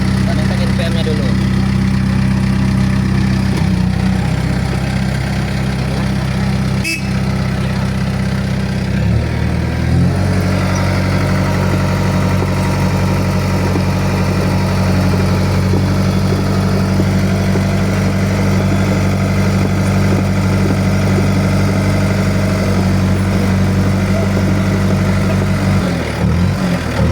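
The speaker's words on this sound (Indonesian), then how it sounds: "Kita naikkan RPM-nya dulu." Engine of a heavy machine running steadily, then stepping up to a higher, louder RPM after a brief dip, holding a constant mid-pitched drone throughout with a voice talking over it.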